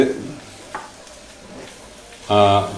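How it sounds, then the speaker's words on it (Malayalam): Beaten eggs thicken into crumbled scrambled egg for a cabbage egg thoran, stirred in a hot pan with soft scraping over a quiet sizzle. A brief louder tonal sound enters near the end. "അതൊക്കെ പതുക്കെ കട്ടിയായിട്ട് വരുമ്പോൾ ഇങ്ങനെ ഇളക്കി കൊടുക്കുക"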